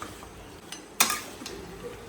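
Mutton rogan josh being shaken and stirred in a pan, with soft scraping, one sharp clink of a utensil against the pan and faint sizzling, no voices.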